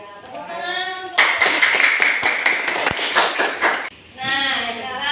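Classroom of pupils clapping together in a dense burst of about three seconds, with a teacher's voice speaking just before and after.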